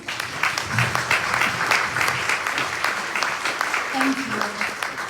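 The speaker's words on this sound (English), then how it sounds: "Let's give our panel a round of applause." Audience applause for a discussion panel, a dense wash of clapping that fills the room steadily, with a few voices audible over it.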